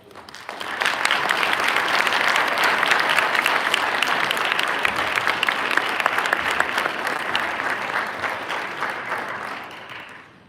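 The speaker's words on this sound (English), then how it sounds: "Round of applause for all of them." Sustained applause from a concert audience at a district clinic concert for student musicians, building quickly and holding steady for about ten seconds with dense clapping before tapering slightly at the end.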